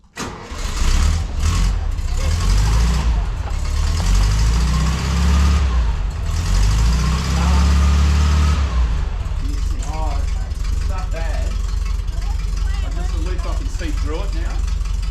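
A 1952 barn door ambulance engine revs hard, a loud, sustained low roar that swells and holds for several seconds before easing off, with voices talking over the idle afterward.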